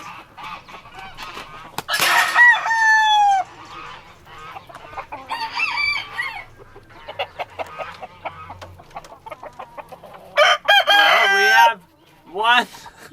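Farmyard chickens clucking close by, with a rooster crowing loudly twice and goose-like honks between, over a scattered chatter of hens.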